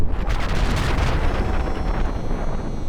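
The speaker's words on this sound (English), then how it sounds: "The explosion of the Earth Mover itself got a pretty major update too" Earth Mover exploding in ULTRAKILL: a loud, sustained roaring blast with rumbling low end and crackling bursts that rolls on without pause, no voices over it.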